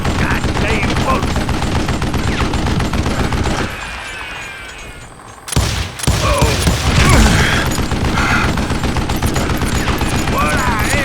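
Loud bursts of Western-style gunfire fill a Call of Juarez Gunslinger shootout, rapid shots stacking into a fusillade, dropping out briefly before a sharp crack and a renewed barrage with clinking mechanisms.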